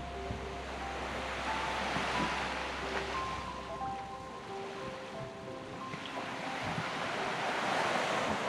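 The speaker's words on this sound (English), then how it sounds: "And this beach, look at this beach." Surf washing onto the beach at Horseshoe Bay on Magnetic Island, a steady broad wash of waves with wind buffeting the microphone, continuous and fairly near with no talk.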